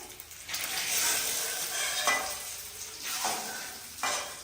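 Potatoes frying in hot oil in a home kitchen, a loud continuous sizzle broken by a few scraping stirs of a utensil against the pan.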